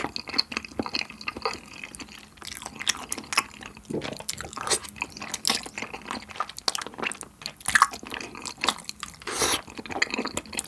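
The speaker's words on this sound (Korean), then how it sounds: "그 다음에 분모자를 먹어볼게요. 트러플 크림 분모자." Close, wet chewing and biting of truffle cream bunmoja, chewy potato-starch noodles from cream tteokbokki, squelching and smacking continuously at full loudness with no talk.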